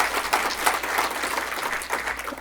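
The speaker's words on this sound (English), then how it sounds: "Let's give her a round of applause." A crowd applauding, dense steady clapping filling the space without pause, no voices standing out.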